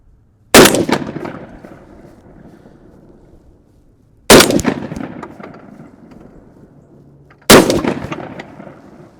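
Three loud, sharp shotgun blasts from a 12 gauge firing slugs at a target ring out a few seconds apart, each booming up close and decaying into a short echo.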